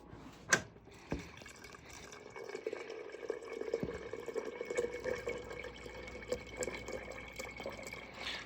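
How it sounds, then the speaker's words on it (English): A water cooler dispenses water into a cup: a couple of sharp clicks from the lever, then a soft, steady trickle of filling liquid that runs for several seconds, close and quiet. "and bring that right to the water cooler."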